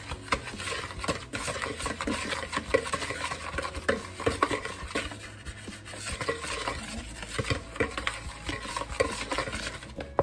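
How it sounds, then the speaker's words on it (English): A spoon stirring chicken noodle soup ingredients with flour in a pot, continuous close scraping and rubbing strokes in a steady rhythm for about ten seconds, no voices. "So I'm gonna mix this together."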